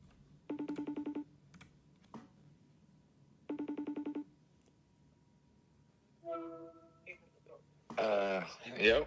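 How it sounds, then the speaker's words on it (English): Phone call being placed: two bursts of a ringback tone, a short dialing chirp, then a brief melodic tone before a voice answers at the end. "let me call Tom, man, because I gotta let him defend himself"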